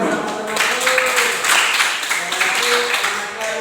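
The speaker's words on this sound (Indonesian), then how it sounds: "Iya, tepuk tangan sama-sama." A group of students applauds in a classroom, a dense, even clapping that runs throughout and is mixed with voices.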